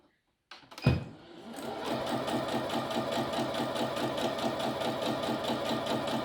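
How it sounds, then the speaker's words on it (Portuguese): A sewing machine stitching fabric: a sharp start-up clunk, then a fast, even, rhythmic mechanical whirr that runs on steadily and close by. "Aí você coloca o seu tecido e faz a costura."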